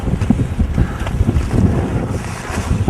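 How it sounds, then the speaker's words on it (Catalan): Wind blows steadily and hard across the microphone near a mountain summit during a climb, a continuous rough buffeting roar with gusty surges and no voices. "i s'ha girat una mica de vent"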